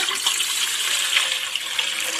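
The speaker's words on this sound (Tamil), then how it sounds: "தேவையான அளவு இதில் தண்ணி சேர்த்துக்கலாம்." Water pours steadily and fairly loudly into a metal idli pot in a home kitchen, a continuous splashing gush with no talking.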